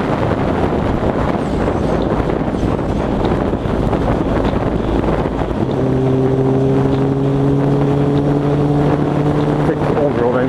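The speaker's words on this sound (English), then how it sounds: "Brand new fucking road and this is fucking bumpy as fuck." A car drives over a bumpy new road, loud rumbling road and wind noise filling the cabin, with a steady engine drone emerging midway as the ride continues.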